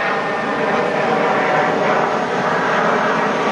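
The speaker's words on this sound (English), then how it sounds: "Hold on, plane going by." An airplane passing overhead, a steady broad roar that stays constant throughout at a moderate distance, with no talk over it.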